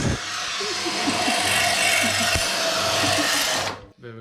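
Power tool drilling out rivets on a Kawasaki VN 900 plate, a loud steady high-pitched whir held for several seconds with faint clicks underneath, then cutting off abruptly.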